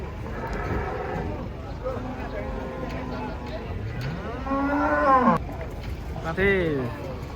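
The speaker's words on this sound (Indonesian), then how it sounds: "Sapi-sapinya banyak yang datang sini." Cattle lowing at close range, several drawn-out moos rising and falling over a steady outdoor rumble, with one louder call standing out near the end.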